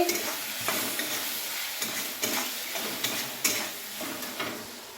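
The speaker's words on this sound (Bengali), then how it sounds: "এবার ভাজা হচ্ছে" Potato pieces with salt and turmeric frying in a pan, a steady close sizzle broken by repeated stirring scrapes at a loose, irregular rhythm.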